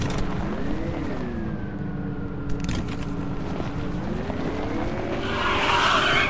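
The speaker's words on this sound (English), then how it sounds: "anytime I'm about to hit a rock or I'm going too fast, I'll just hit the brakes" Company Cruiser truck in the video game Lethal Company, its engine droning steadily with rising and falling pitch before the brakes bite and the tires skid with a bright hiss near the end, loud and close with no talk.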